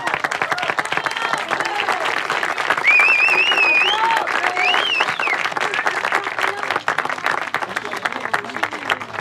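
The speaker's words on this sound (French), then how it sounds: "on peut les applaudir" Crowd applause at an outdoor community gathering in Paris's 18th arrondissement, steady dense clapping throughout with a few voices and whistles rising above it midway.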